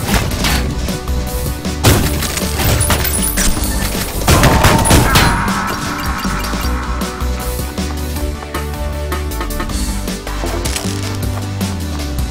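Rapid gunfire from the video game Ion Fury, with bursts of shots and crashing impacts layered over a dense game soundtrack, loud and continuous throughout.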